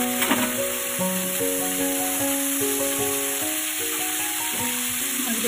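Fish fried in hot mustard oil in a wok gives a loud, steady sizzle that runs throughout, with a burst as the pieces go in early on, and no voices.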